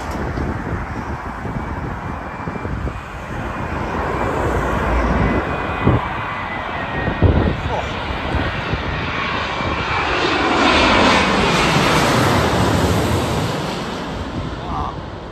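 Fixed-wing airliner coming in to land at Heathrow, its loud engine roar swelling as it approaches and passes close overhead, with wind and faint traffic beneath and occasional voices nearby.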